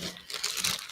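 A plastic bag of zippers crinkles and rustles as a hand rummages through it, brief close crunching bursts.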